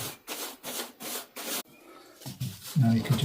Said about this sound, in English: Now you can just run a cloth around at this stage. Simply wipe off the excess.